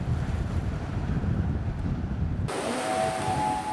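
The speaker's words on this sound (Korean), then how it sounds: "파도 소리 말고는 아무 소리도 들리지 않는데요" Sea waves breaking against tetrapods on a breakwater, a steady rushing roar with heavy wind buffeting the microphone, shifting partway through to a brighter hiss of water.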